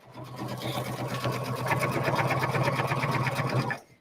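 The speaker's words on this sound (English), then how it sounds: "you can see it's stitching really quickly" A sewing machine stitches letters onto a sweatshirt, running steadily with a fast, even rhythmic chatter that grows slightly louder midway before stopping near the end, heard close and alone.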